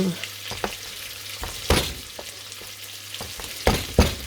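Onions fry in a pan, giving a close, steady sizzle broken by occasional sharp stirring scrapes and clicks, with no voices.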